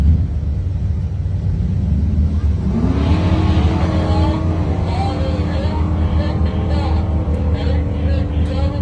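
A Pontiac Firebird and a 1980 Chevy step-side pickup launch in a drag race, a loud rumbling idle building into roaring acceleration as engines rev up and pull away, close and dominant throughout.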